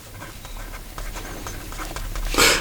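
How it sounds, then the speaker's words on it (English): A Visconti Homo Sapiens Bronze Age Skylight fountain pen writes on paper, giving close, soft scratchy strokes in quick succession that end with a brief louder rustle. "Here we go with the writing sample for the Visconti"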